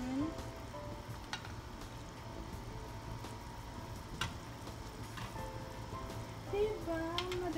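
Chicken tinola simmers and sizzles softly in a pot as it is stirred, a faint steady bubbling with a few light clinks of the spoon and no talking.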